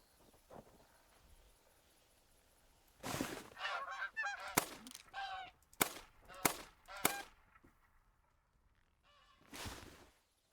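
Canada geese honking in the hunting game theHunter: Call of the Wild, a quiet, faint stretch giving way to a burst of loud, overlapping honks, then a lone call near the end.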